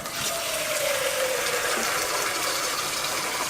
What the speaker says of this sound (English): So we'll have to fill this up with water